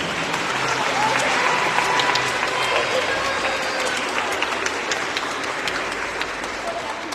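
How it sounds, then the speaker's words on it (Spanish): Sustained applause from an audience at a children's book reading event, steady dense clapping filling the room throughout with a faint voice underneath. "Fuertes los aplausos primero para los integrantes"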